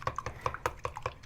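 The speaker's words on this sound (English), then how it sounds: "I'm going to beat the egg lightly" A utensil beats eggs with water, clicking rapidly against the side of a bowl in a quick, steady rhythm, close and crisp, with no talking.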